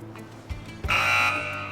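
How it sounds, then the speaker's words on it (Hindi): Quiz show buzzer on a Ramzan Islamic quiz stage, a loud sustained electronic tone lasting about a second after a couple of short thumps. "रेडी बजर्स के लिए?"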